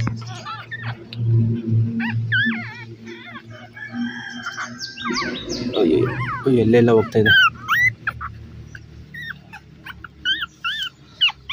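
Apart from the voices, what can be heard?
beagle puppy whining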